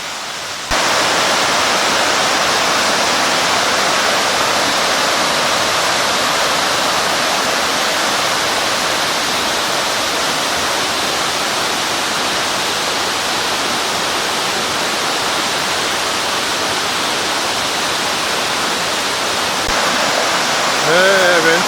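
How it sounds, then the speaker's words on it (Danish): Sapadere Valley waterfall in a canyon, a loud, continuous roar of falling water close by, with someone speaking briefly near the end. "Her er vandfald hele vejen."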